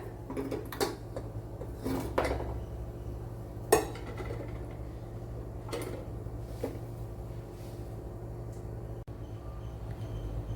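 Cut beetroot and drumstick pieces drop into a metal pressure cooker, giving a handful of scattered close clinks and clatters with quiet pauses between them against low room hum.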